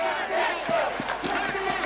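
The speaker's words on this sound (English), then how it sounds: "The crowd nervy here." A large crowd roars and shouts through a tense late moment of a Kenya vs Uganda rugby match, a dense, steady din with occasional thumps underneath.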